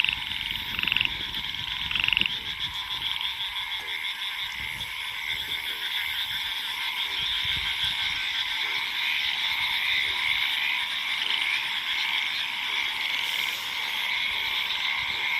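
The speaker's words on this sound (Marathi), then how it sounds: "आपल्या बेडकांचा आवाज पण कसला येते भारी. कसं ते सुरात ओरडतात." A dense chorus of frogs croaks continuously at midnight in a farm field. The steady pulsing calls come from several animals near and far, alone without talk.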